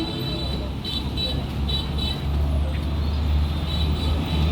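Traffic rumbles steadily beside the Dhaka–Mymensingh highway near a house, with a heavy low engine drone, passing vehicles and a few faint horn toots, loud and close.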